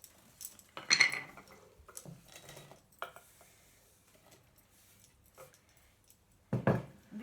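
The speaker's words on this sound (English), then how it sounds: "let's put the onion in the pan" Onion going into a pan during soup cooking: a few sharp clatters and taps, separated by quiet gaps, close and fairly faint, with no talking.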